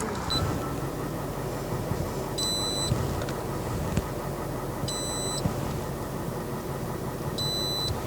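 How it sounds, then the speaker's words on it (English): An ELD logging device in a truck beeps three times in short high electronic bursts, evenly spaced over a steady low engine hum, with no talk. "It's making a beeping noise."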